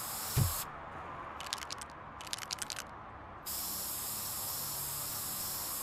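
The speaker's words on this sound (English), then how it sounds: "Are you just spray painting that wall?" Spray painting a wall in RoboCop Rogue City comes through as several short bursts of hissing aerosol spray from a can, bunched in two quick clusters, followed by a steady background hiss.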